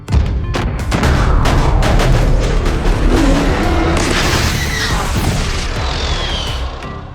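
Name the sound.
explosions of the human fleet's carpet bombing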